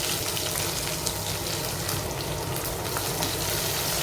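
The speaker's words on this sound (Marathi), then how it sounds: "कांदा ऍड करून कांदा सुद्धा थोडा गुलाबी लालसर असा परतवून घ्यायचा आहे।" Onion sautéing in hot oil with garlic in a pan, a steady close sizzle and crackle throughout, no talk.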